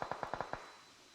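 A quick burst of video game gunfire from a scrim match, about six sharp shots fired rapidly in a bit over half a second, sounding fairly faint and distant before fading out.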